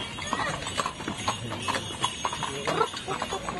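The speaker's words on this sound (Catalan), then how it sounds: "una passejada amb cotxe de cavalls" Horse hooves clip-clop in a regular walking rhythm as a horse-drawn carriage carries riders at a village charity event in Valldoreix, with a voice talking over the steady hoofbeats.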